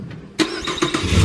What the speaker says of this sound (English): So let's try start the car.